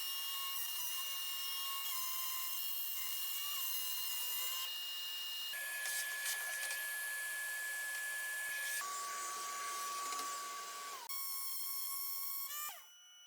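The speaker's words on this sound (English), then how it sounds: "using the CNC, I'll cut the final part of the box" A CNC machine cuts the final part of a live-edge olive wood box with small cracks, a steady high-pitched whine and rasping cut running loud and continuous, the pitch shifting in stages before cutting off abruptly near the end.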